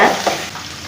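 Sliced onions hit hot oil with mustard seeds for masala egg rice, giving a brief loud sizzle that settles into a steady frying hiss.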